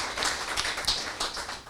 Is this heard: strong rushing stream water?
no